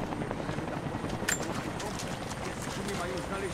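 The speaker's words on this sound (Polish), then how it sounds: "Helikopter." A helicopter in the video game Rise of the Tomb Raider gives off a steady, muffled rotor drone that fills the background at moderate level, with faint scattered clatter on top.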